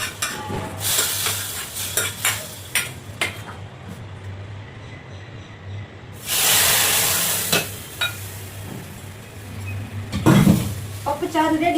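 Ingredients for Andhra pappu charu are sautéed in a pan: a spoon scrapes and clatters against the metal in uneven strokes, with a brief surge of sizzling midway and a sharper clink near the end.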